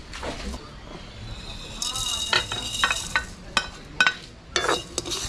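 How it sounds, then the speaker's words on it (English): Nine whole spices being dry-roasted and stirred for Sri Lankan curry powder, with a soft sizzle and repeated scraping clicks of a utensil against the pan, fairly close, while people talk nearby. "We mix. We make the curry powder. And roast."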